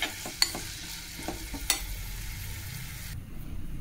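Ingredients frying in a pan give a continuous sizzle, broken early on by a couple of sharp stirring clacks, then the sound drops to a lower, quieter hiss near the end.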